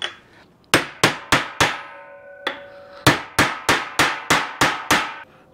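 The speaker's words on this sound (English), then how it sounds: "Now I can go ahead and hammer this bearing in here." Metal hammer strikes drive a steering bearing into a custom cab-over truck frame, two bursts of sharp ringing blows, four then seven, evenly spaced and loud with short metallic decays.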